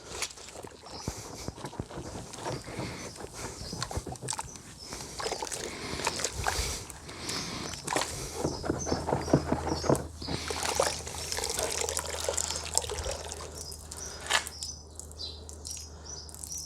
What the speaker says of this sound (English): I'm going to give this a good rinse now.